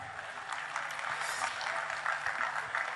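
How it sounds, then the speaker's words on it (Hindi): A concert audience at a classic Hindi film song show applauds to welcome a performer onstage, a full, steady burst of clapping throughout. "आप सबकी जोरदार तालियों के साथ।"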